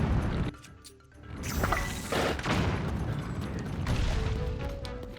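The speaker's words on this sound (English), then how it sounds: "you seem to manage the explosions quite well" Bomb arrow explosions in Zelda: Tears of the Kingdom during a Frox battle, a run of loud crashing blasts and debris rattles packed into a few seconds, with a brief lull before the noise swells again.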